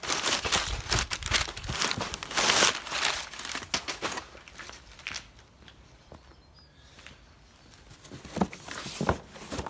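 Packaging around Porsche 996 car parts being unwrapped, with dense, close crinkling and tearing of wrapping material in busy bursts that ease off midway, then pick up again.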